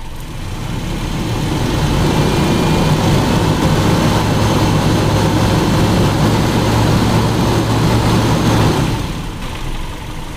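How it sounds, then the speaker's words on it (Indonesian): A Toyota Kijang engine rises from idle into a sustained loud rev, holds steady for several seconds, then drops back down near the end. "Coba saya naikkan mesin, apakah akan semakin masuk?"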